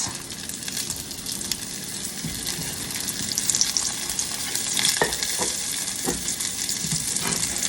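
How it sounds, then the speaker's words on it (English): Leftover turkey and dressing sizzles and crackles in a hot skillet, a steady bright hiss with a few sharp pops and scrapes near the end. "You can hear that sizzle a little bit. That way you know it's good and hot."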